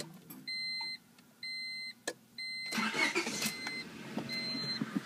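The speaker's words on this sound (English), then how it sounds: "turn the engine on, and run the rest of the fuel" A 1998-2000 Honda Civic GX running on CNG goes through its ignition sequence: several electronic beep tones, then the engine cranks and catches into a low steady idle.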